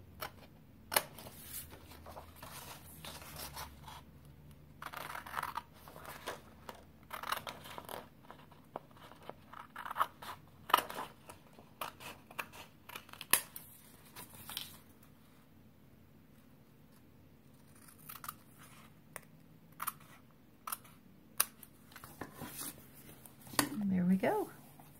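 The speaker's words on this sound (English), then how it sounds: "Flip it over and trim off my excess paper." Scissors trimming excess paper from an envelope pocket letter craft, close-up irregular snips, crinkles and paper rustling in bursts, with a person talking between the cuts.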